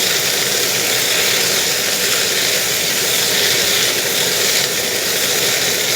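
Food frying in hot oil while being stirred: a steady, bright sizzle and hiss that holds fairly constant throughout, with no speech.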